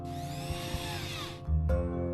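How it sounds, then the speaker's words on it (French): A power drill drives screws into a wooden board, with a steady whining motor tone that rises and then deepens as the screw bites; the drilling sounds close and continuous, with no talking. "On visse les vis dans la planche en laissant un petit espace."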